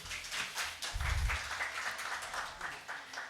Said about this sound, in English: A warm round of applause for her.